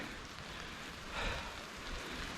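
Heavy rain from a storm on the Ice Age Trail, a dense steady hiss of falling drops at moderate level with a brief swell in intensity midway, no voices.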